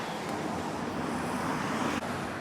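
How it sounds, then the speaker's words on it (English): Steady, diffuse road traffic rumbles from all sides outside an 18th-century house in Langport, a continuous wash of passing cars with some wind noise on the microphone. "The sound of traffic all around."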